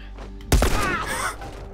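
A single sharp, loud gunshot bursts out halfway through, leaving a short ringing tail, fired in the video game The Last of Us Remastered.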